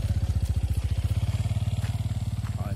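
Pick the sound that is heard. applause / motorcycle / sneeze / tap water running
motorcycle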